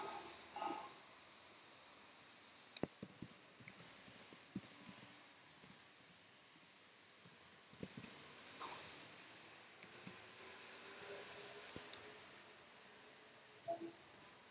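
Typing on a QWERTY computer keyboard: scattered quiet clicks and short bursts of keystrokes, faint and close, with pauses between the bursts over a low background hum.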